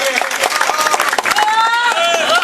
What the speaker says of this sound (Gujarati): જોરદાર તાળીઓથી પ્રવીણભાઈને